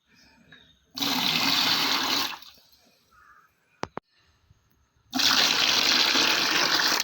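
Water poured from a mug into a container while preparing homemade plant fertilizer, two loud gushing splashes separated by a quiet gap with a couple of brief knocks in between.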